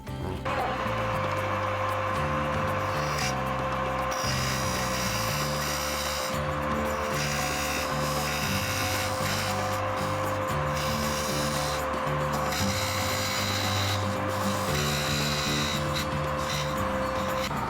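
Wood turns on a lathe while a flat nose scraper cuts an end-grain box, producing a steady, close, continuous whirring rasp with a constant motor hum beneath and small shifts as the tool moves.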